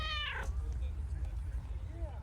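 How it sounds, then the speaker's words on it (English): A loud cat meow in a video game, one drawn-out harmonic cry near the start with a softer chirping meow at the end, over a steady low background hum. "I see your meows are loud too."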